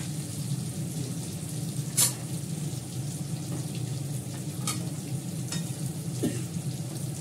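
Cabbage frying in a pan while being stirred, a steady close sizzle with occasional sharp scrapes of the spatula against the pan, no talking.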